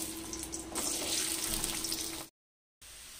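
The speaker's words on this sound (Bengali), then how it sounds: "ওই তেলের মধ্যে এবার আলুগুলোকে দিয়ে দিচ্ছি।" Potato pieces hitting about four spoons of hot mustard oil in a pan: a soft hiss swells into a steady, watery sizzle, then cuts to silence before resuming faintly.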